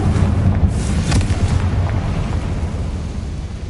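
A Confringo blasting spell explodes in the video game Hogwarts Legacy on PS5, a loud rumbling blast with a sharp burst early on that decays into a low roaring tail.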